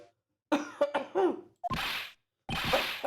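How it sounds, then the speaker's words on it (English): A cartoonish coughing fit from a character in the Phoenix Wright: Trials and Tribulations video game: a voiced cough-and-sputter burst, then two loud rough hacking coughs separated by short silences. "Just try not to give me that cough of yours"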